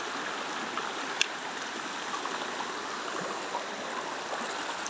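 A river stream flows along a mountain slope on Semeru, a steady broad rushing of water that fills the whole stretch evenly, close and continuous with no voices.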